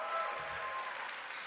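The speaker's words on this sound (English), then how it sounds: "And here's how I get the real applause." An audience at the 2017 American Library Association Youth Media Awards claps in a brief, steady burst of applause filling the hall at moderate volume.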